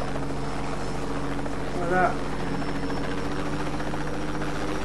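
A helicopter in Just Cause 2 drones steadily with a buzzing rotor and engine hum throughout, loud and continuous, while someone speaks briefly in Spanish over it.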